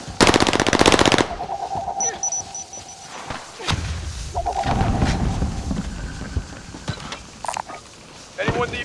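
Automatic gunfire in the video game Call of Duty: Modern Warfare opens with a loud rapid burst, followed by scattered shots, thuds and rumbling effects, with a player talking over the action.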